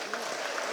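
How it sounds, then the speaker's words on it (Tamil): A crowd claps in brief, steady applause at a book launch for a Coimbatore hospital founder's autobiography, heard in a hall with a voice faintly underneath. "மீண்டும் ஒரு முறை ஒரு பெரிய கைத்தட்டல் கொடுத்துடலாம்."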